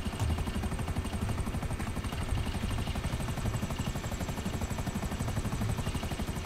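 A Buzzard helicopter in GTA 5 drones steadily throughout, rotor chop pulsing fast and loud over a constant engine roar, close and unbroken.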